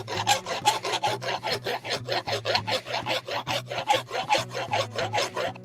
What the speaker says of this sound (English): I'm kind of just draw filing this to make sure that it's how I like it